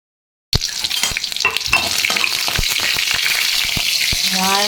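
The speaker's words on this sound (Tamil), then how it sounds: "வாழைக்காவுக்கு வந்து தாளிப்பு போட்டுக்கிறோம்." Mustard seeds, garlic, curry leaves, turmeric and chilli powder sizzle loudly in hot oil for a raw banana dish, starting abruptly after a short silence and holding a steady frying hiss with sharp pops and crackles, no talk.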